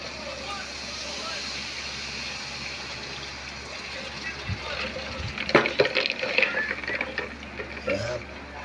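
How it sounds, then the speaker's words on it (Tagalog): Water poured into a pot of fried pork, potatoes and bananas for Filipino pochero, a hissing gush building midway and growing louder with splashing sizzle toward the end. "At lagyan po natin siya ng konting tubig."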